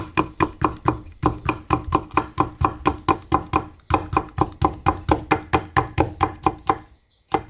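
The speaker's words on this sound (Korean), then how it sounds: "이것도 채를 썰어주세요." A knife julienning vegetables on a cutting board in rapid, even strokes, about four per second, with one brief pause partway through. The crisp knocks are close and loud, then stop near the end, and no one speaks.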